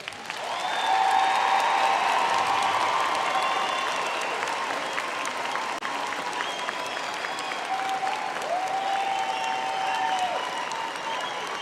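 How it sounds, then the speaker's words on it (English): A large crowd at a university autumn graduation ceremony applauds the standing graduates in sustained, dense clapping that swells quickly and holds for over ten seconds, with faint tonal whistles or cheers drifting over it. "Let's give them another applause."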